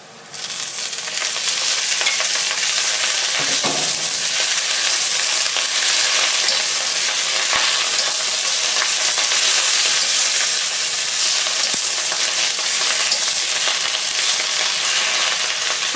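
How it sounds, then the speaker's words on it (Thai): Napa cabbage stir-frying in a hot pan with chillies for a soy-sauce dish, a loud, steady sizzle and hiss that swells after the leaves drop in at the start and holds strong throughout, with occasional stirring scrapes and no talk. "ใส่ผักกาดขาวลงไปค่ะ"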